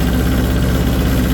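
A John Deere tractor engine idles steadily close by, a low, even rumble with a faint pulsing throb that holds constant throughout without revving or any speech.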